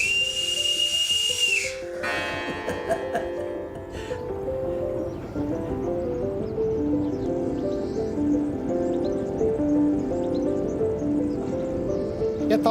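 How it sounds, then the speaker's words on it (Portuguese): A shrill, steady whistle blast rings out for about two seconds, then a dense wash of music and voices carries on loudly afterward. "Ó Silva, toma lá o meu apito"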